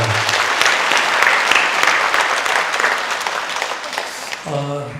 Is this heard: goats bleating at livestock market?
no